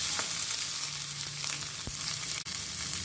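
Red chillies, ginger and chopped garlic sizzle in hot oil after mustard seeds have popped, a steady bright frying hiss with a few sharp crackles and a stir scrape near the end, close and alone.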